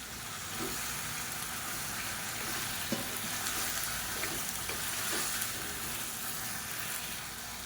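Brinjal, tomato and green chillies sautéing in a pan for chutney, a faint continuous sizzle with occasional soft stirring taps, close by and alone.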